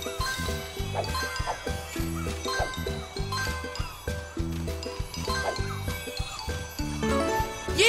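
Bright chime for collecting a golden paw print in the Paw Patrol On a Roll video game, sparkling tones ringing over steady, bouncy background game music.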